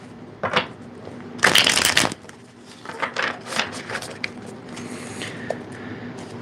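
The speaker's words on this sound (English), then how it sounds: "Okay, one more shuffle for these ones." A deck of tarot cards is shuffled at close range in one loud riffling burst, followed by softer taps and shuffles of the cards being handled.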